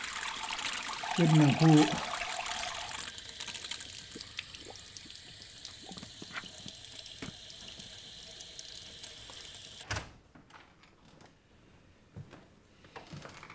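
Cold water runs from a tap as a man holds his head under it, a steady close splashing stream that stops abruptly, followed by quiet room sound. A voice speaks briefly over the water.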